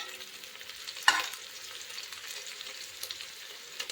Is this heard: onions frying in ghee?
yes